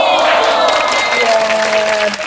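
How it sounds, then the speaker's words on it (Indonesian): A crowd claps steadily, a dense wash of applause that gradually thins out toward the end. "Tepuk tangan dong untuk mereka."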